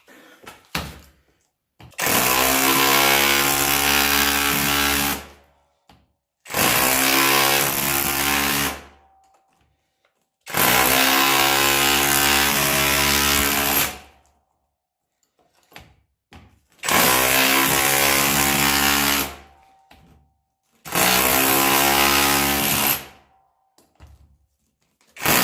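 Parkside PKHAP 20-Li cordless hammer drill chiseling with a flat chisel, five loud harsh hammering bursts of two to four seconds each, separated by short pauses, with no talking.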